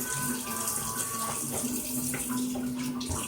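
Running tap water pours steadily and close by as dishes are rinsed of suds, with a continuous splashing hiss throughout and faint clinks of crockery.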